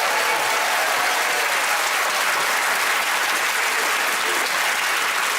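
A studio audience on a TV panel quiz show bursts into thick, continuous applause for a joke, loud and even throughout, with no break in the clapping.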